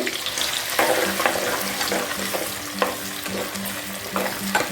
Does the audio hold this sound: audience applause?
no